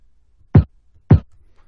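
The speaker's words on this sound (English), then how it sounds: "I went into the boom bap and I chose this kick right here." A boom bap kick drum sample plays twice, two short punchy thumps about half a second apart, clean and isolated against near silence.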